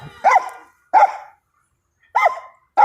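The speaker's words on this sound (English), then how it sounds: "The dog only barked at him." A dog barks in three separate, loud, close bursts with pauses between them, on a quiet outdoor walk.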